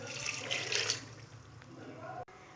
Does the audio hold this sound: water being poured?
yes